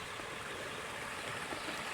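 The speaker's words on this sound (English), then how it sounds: "You just hear the little birds and the creek that goes by here." Steady, even rush of a creek flowing close by, continuous and moderately loud with no voices.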